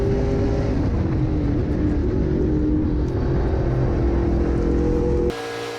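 Chris Evans XGT race car in a Trans Am Western Championship race at Thunderhill, engine droning loudly as it passes on track, steady and close for several seconds before cutting off abruptly.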